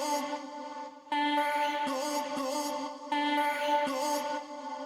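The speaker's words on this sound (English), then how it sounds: "I took all the vocal chops, threw it in a drum rack, tuned them to the right pitch for this key" A short melody of pitched vocal chops tuned to key and triggered from a drum rack in an electronic track, with clipped syllable-like notes in two repeating phrases and no talk.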